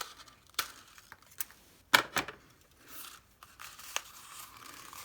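Scissors snip through paper while a Stampin' Up! paper treat holder is being made, giving a few sharp, crisp cuts spaced irregularly, close and fairly quiet, with a brief crinkle of paper between them.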